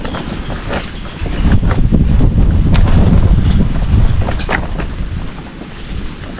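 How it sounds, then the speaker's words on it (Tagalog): Strong gusts of wind buffet the microphone in a loud, rough roar that swells midway and then eases, with no voices. "mahangin naman"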